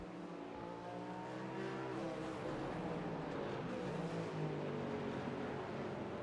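GT4 race car engine in a sim racing game on the Homestead road course infield, a sustained onboard engine whine climbing and dropping in pitch through shifts, faint and continuous.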